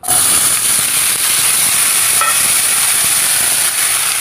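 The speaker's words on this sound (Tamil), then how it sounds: "இப்போ நம்ம வாழைக்காய் போட்டுக்க போகிறோம்" Plantain slices drop into hot sesame oil already tempered with fennel seeds, setting off a loud, dense, continuous sizzling hiss that stays close and steady throughout.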